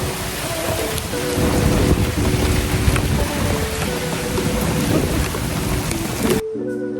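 Steady, dense rainfall with rolling thunder during a walking tour in Savannah, fills the scene close and loud without pause before cutting off abruptly near the end.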